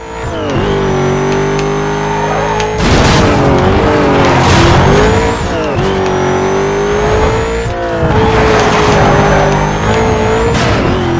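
Tires squeal and skid repeatedly as a race car in Need for Speed Most Wanted 2005 slides through corners, engine revving loudly throughout with bursts of broadband screech in three main waves.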